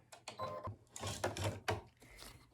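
Embroidery machine stitching a glow fabric Christmas ornament with green thread, giving rapid mechanical chattering bursts with short pauses, close and quiet.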